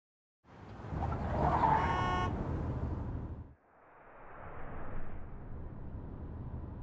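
At an intersection, a car approaches from the right and passes with a loud swelling whoosh and a brief honk, then a second rushing pass follows, fairly close, with no talk.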